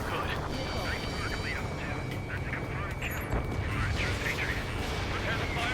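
Ace Combat 7 combat on a bridge under attack by tanks and armored vehicles, a dense, continuous rumble of gunfire and explosions with constant radio voices talking over the battle noise.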